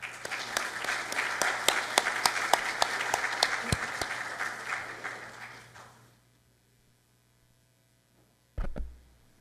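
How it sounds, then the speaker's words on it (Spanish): An audience at a mining conference claps steadily for a speaker for about six seconds, then the applause fades into near silence before a brief bump of noise. "Por favor, recibimos al ingeniero Juan Pantoja con un fuerte aplauso."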